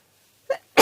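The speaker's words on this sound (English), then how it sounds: "Not a lot you can do when a sneeze takes you by surprise like that." A single person's sudden sneeze, a short intake followed by a sharp loud burst, close and alone.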